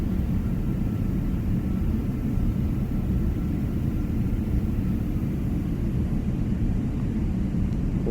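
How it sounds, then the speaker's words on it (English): An Airbus A321 with IAE engines in a flight simulator rolls out after landing with thrust reversers deployed, a loud continuous low roar and rumble that holds steady throughout. "Spoid brakes popping out. Reversers coming out."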